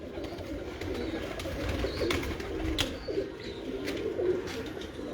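Pet pigeons coo softly in a loft, with low repeated cooing, occasional chirps and faint fluttering over a steady background.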